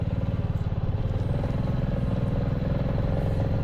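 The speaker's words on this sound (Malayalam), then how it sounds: "ആ പോകുന്നത് പഞ്ചാബിൽ നിന്നുള്ള റൈഡേഴ്സാണ് അവർ നാല് പേരുണ്ട് രണ്ട് ബൈക്കിൽ" Motorcycle engine rumbling steadily and close by on a mountain road between Kargil and Leh, a constant even throb with no talk.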